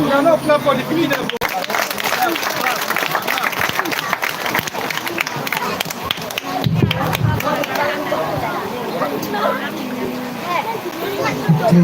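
A crowd claps for children at a school event handing over a washing facility, with uneven, spirited applause rising and falling while people chatter and call out over it.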